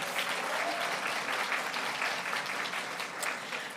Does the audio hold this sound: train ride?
no